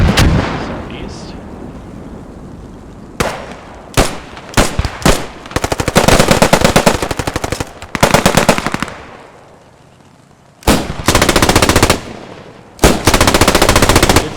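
Machine gun fire in a multiplayer war video game, loud and close, coming in long sustained bursts separated by short pauses, with scattered single shots between.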